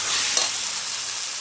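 Chicken meat going into a pan of frying spice paste with potatoes, a loud, dense sizzle with one brief stir or clack near the start.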